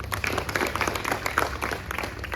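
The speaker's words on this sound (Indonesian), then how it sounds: "tepuk tangan dulu untuk kita semua" Students in a classroom applaud together at the end of a lesson, a dense, continuous patter of many hands clapping at close range, fairly loud and unbroken for a couple of seconds.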